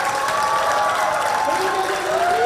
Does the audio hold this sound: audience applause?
yes